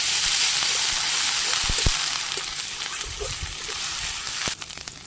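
Ginger, garlic and onion paste fries in a pan with a loud, continuous sizzling hiss. A few soft stirring knocks and bubbling pops sound underneath.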